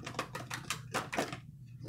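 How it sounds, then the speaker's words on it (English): Tarot cards shuffled by hand during a love reading: a run of quick, close riffling and slapping bursts in an uneven rhythm, ending in a brief quiet pause. "Let's get one more shuffle"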